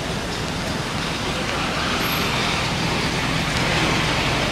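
Road traffic outside a hotel: a dense, steady roar of passing cars and larger vehicles, continuous and fairly loud with no breaks, heard close by without voices.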